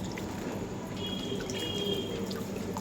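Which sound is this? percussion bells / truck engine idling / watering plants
watering plants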